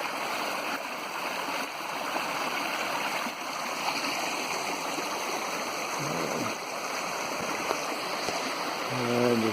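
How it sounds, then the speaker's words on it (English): Muddy stream water flowing steadily in a constant broadband rush near a road ditch and culvert, continuous and fairly loud throughout with no talk over it. "main part of the stream is pretty muddy"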